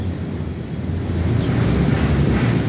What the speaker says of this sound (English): Some guy nearby has got a power washer. Oh yeah, he's power washing.